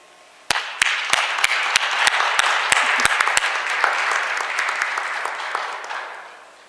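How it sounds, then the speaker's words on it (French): Applause from a congregation at a Catholic Mass starts abruptly, with a few sharp individual claps at first, then builds into steady clapping that gradually fades out near the end. "Alors, je vous demande de les applaudir."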